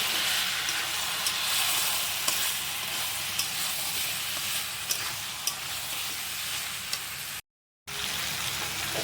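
Meat curry with chili powder and garam masala stirred in a hot pan, giving a steady close sizzle with soft scraping strokes and occasional light clicks, broken by one brief silent gap near the end.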